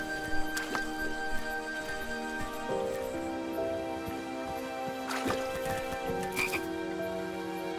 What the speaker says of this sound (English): I was too slow to catch those frogs.